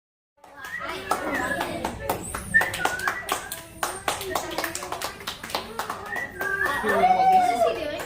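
Rhythmic hand clapping by a group of children at a 4-H poultry showing club meeting, sharp claps in patterned bursts with kids talking and laughing over them.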